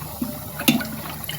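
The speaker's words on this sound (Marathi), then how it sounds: "एक वाटी पाणी घालून घेतलं," A bowlful of water is poured into jowar flour for masala dosa batter, a short splashing gurgle with a brief clink, close and alone.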